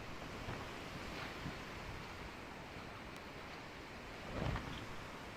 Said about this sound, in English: The waves are getting quite large actually.